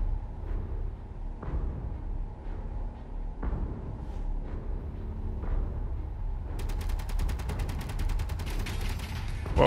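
Distant gunfire from an enemy ship in Space Engineers rattles in scattered bursts, then becomes a dense rapid stream of shots near the end over a low rumbling background.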